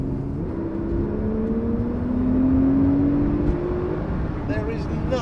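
A Porsche 991 Turbo S accelerates with a steady, loud engine and road roar, its tone rising smoothly as speed builds, with a few faint rattles near the end.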